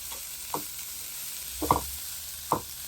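Faint, quiet sizzle of onions and chillies frying in oil for tempering, with a few soft crackles and pops at scattered moments.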